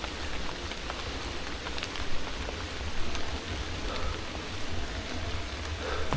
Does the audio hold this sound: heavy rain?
yes